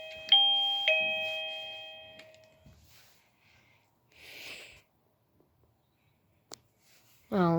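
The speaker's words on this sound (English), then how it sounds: "The receiver rings. That's the default chime." An AVANTEK wireless doorbell receiver sounds its default chime, two bright ding tones ringing out and decaying, followed by quiet handling noises, a short click and a final tone at the end.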